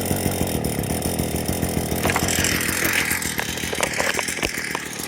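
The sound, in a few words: Proyama multi tool engine starting up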